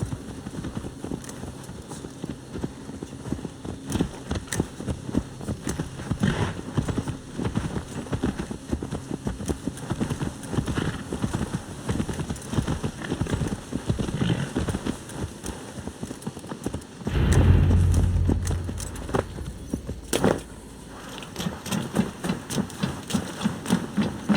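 Steady clip-clop of horse hooves trotting at an even rhythm in Assassin's Creed Valhalla, briefly giving way to a low rumble before the hoofbeats resume.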